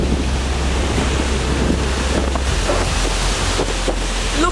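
Strong derecho wind storm roaring steadily and loudly across the microphone, a continuous heavy gusting rush with low rumble and scattered clattering bits of debris, no talking.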